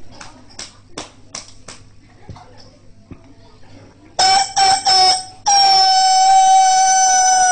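A voice imitates a rooster crowing with a few rising calls, preceded by scattered soft clicks and taps, the loud sustained crowing imitation dominating the final seconds.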